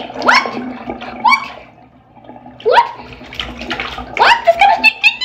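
Puppies splash and yelp in a bathtub while water runs and sloshes, with short high whimpers and barks coming in bursts close by and a person talking now and then.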